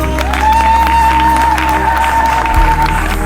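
Crowd applause at a civil wedding ceremony in Brazzaville, a loud, steady wash of clapping throughout with a sustained tone carrying over it.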